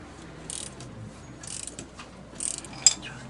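Strut bolts on a BMW E39 front suspension loosened by hand with a ratchet, giving irregular bursts of close metallic clicking and rasping separated by short pauses, with one sharper click near the end.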